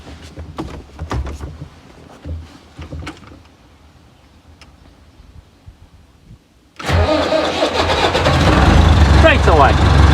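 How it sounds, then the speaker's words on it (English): A two-wheel-drive Massey Ferguson 390 tractor, left unused for weeks, is cranked with a few clunks and then its diesel engine catches and roars into a loud, steady idle close by. "this tractor's not moved since, so it's going to be interesting to see if it'll actually start"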